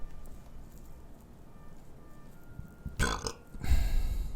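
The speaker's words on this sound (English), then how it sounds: "I want to get the burps just right." A person burps twice into a streaming microphone set with high gain, two loud, short eructations close to the mic after a quiet stretch of background hiss.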